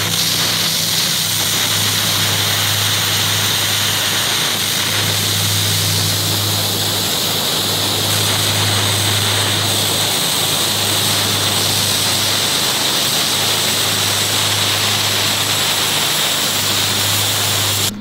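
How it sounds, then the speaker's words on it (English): A small air compressor runs steadily for the whole stretch, a constant droning hum with a broad hiss on top, close and loud outdoors in a yard, with no voices. "I've got to wait in between my zones to let my air compressor build back up some air pressure"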